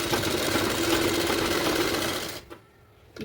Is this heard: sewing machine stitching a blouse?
yes